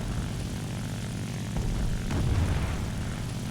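Propeller engine drone of a Ki-43-III Otsu fighter in a War Thunder realistic dogfight, a steady loud rumble that swells slightly as the throttle shifts during a dive, with no talking.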